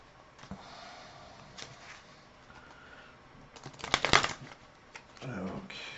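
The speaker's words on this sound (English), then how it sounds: "So let's shuffle." A deck of Marvel Champions playing cards is shuffled with soft rustles and clicks, then a louder burst of riffling and snapping near the end, with some breathy noise between.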